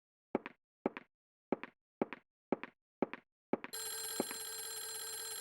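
In the video game Clock Tower, a telephone rings seven times in a steady, evenly spaced series of bright electronic trills, heard alone, before a steady background drone takes over.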